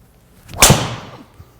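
A single sharp whoosh and crack of a golf driver striking a ball, loud and close, followed by a brief fading tail and quiet.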